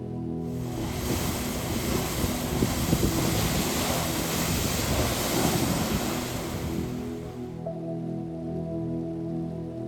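Sea waves and coastal wind near a seaside cave shrine, a steady broad roar of surf with gusting air that fades noticeably toward the end, with no voices.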